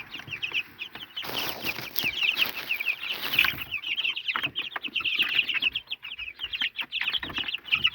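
A flock of chickens clucking and chirping busily, with soft rustling and a brief flutter of wings; close by, continuous, no voices.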